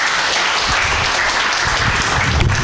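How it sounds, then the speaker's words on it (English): A tech-talk audience bursts into loud, dense applause that fills the room steadily for a couple of seconds, with no voices heard over it. "Everyone first give Tom a round of applause"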